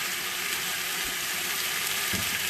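Oxtails browning in about a tablespoon of regular olive oil, a steady close-up sizzle and frying hiss running without pause, with a couple of faint low knocks.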